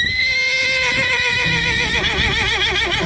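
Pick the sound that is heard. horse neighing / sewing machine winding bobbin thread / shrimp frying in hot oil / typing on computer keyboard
horse neighing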